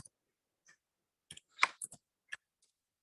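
Sparse clicks of typing on a computer keyboard, a handful of separate keystrokes and a short quick cluster, close and quiet against silence.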